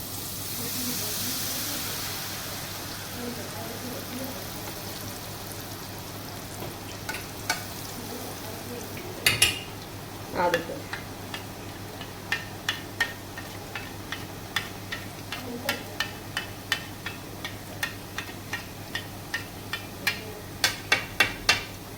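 Boondi batter dropping into hot mustard oil in a kadai over a medium gas flame, a steady close sizzle and bubbling crackle with a rapid run of sharp ticking spatters toward the end, no talking.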